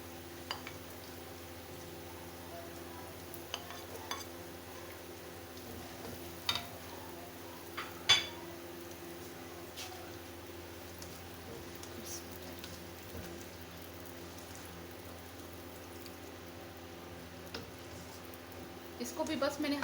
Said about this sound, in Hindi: अब इसमें मैं प्याज शामिल कर दूंगी।